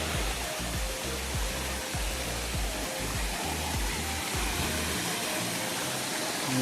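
The Duduria waterfall at Soro, Balasore, gives a continuous, even rush of falling water, fairly soft and distant, with no voices.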